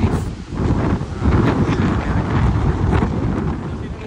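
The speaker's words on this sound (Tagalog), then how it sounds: "So minalas lang tayo, medyo mahangin ng sobra." Strong gusts buffet the microphone outdoors at a World War II site, a loud, continuous low rumble swelling and easing throughout.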